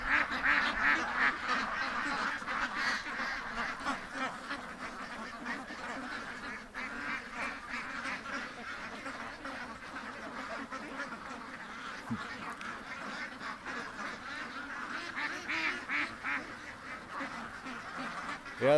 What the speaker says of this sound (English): Yeah, that's a mess of ducks